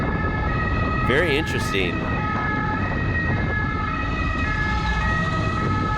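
An ambulance siren in heavy traffic in France wails close by in rising and falling tones, with road traffic rumbling underneath and someone talking briefly over it.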